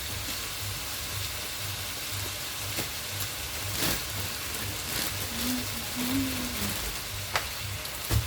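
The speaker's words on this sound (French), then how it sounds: "Et on laisse cuire gentiment les oignons, la viande et compagnie." Onions and meat sizzle and fry gently in a pan, a steady crackling hiss with faint scattered clinks, heard alone at moderate level.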